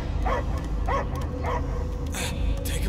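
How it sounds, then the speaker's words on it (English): A dog in the Guardians of the Galaxy video game gives a few spaced barks and yips at a steady rhythm over a low rumbling game backdrop, moderately close and fairly clear. "I hear only barking."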